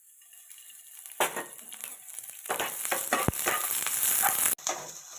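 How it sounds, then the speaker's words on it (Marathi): Chopped onion warming gently in a little oil in a pan for palak paneer, with soft sizzling, stirring scrapes and a few utensil clinks throughout, fairly quiet and close. "तो कांदा थोडासा हलकासा गरम करून घेऊया पॅनमध्ये"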